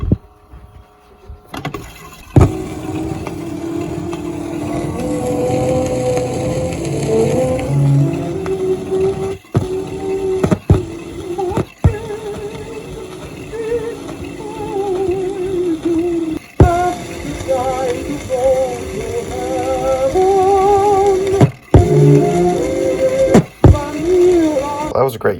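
An early-1900s Edison record plays back as a steady, muffled and hissy recording, with sharp clicks and pops from the worn surface breaking through now and then.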